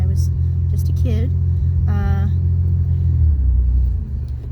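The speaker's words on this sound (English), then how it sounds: "I am driving my 1990 Buick LeSabre Custom that I got when I was just a kid" A 1990 Buick LeSabre Custom drones along at a steady low rumble while driving, with brief voice fragments over the constant engine hum before the pitch drops slightly near the end.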